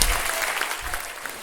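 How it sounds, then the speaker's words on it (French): An outdoor crowd at a neighbourhood family festival claps together in dense, steady applause, close and lively throughout the short burst. "On lui donne une bonne main d'applaudissement, s'il vous plaît"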